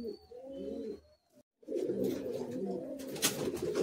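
Madrasi high-flying pigeons coo in a loft, a low throaty burble rising and falling in phrases, paused briefly then resuming fuller amid rustling and other birds nearby.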